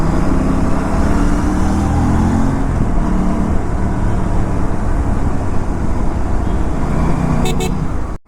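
Dense road traffic on a hot afternoon heard from a motorcycle rider's position, a loud continuous roar of engines and wind with occasional short horn toots near the end.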